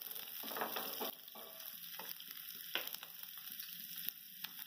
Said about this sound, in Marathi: नंतर त्यात कढीपत्त्याची पानं, हिरव्या मिरचीचे तुकडे पण परतून घ्यायचे थोडस.